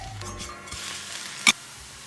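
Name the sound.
food frying and sizzling in a pan after flipping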